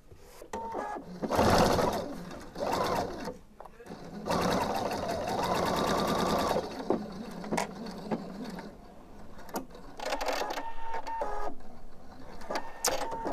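A sewing machine stitches two short seams on the facing of a blouse, in loud bursts of rapid mechanical whirring separated by pauses, with a person talking in between.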